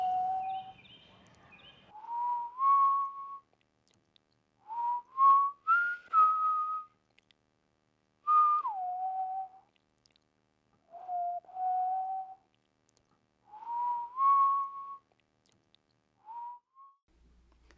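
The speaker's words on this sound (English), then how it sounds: "if I stand against the wind at just the right angle, it makes the most delightful whistling noise" Whistling made by standing against the wind at just the right angle: a series of short, clear rising and gliding tones, about eight phrases spaced across the stretch, each lasting a second or so, with quiet gaps between them.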